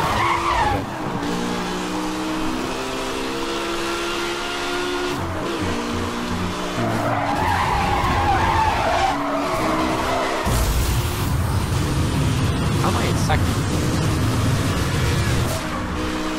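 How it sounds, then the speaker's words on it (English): In the Need For Speed racing game, a car drifts with long screeching tire skids over a roaring, shifting engine, loud and continuous with no voices. "It's a tight drift."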